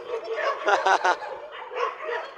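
Several rescued stray dogs at a dog shelter bark and yip excitedly in a chorus of overlapping high-pitched calls, fairly close and continuous.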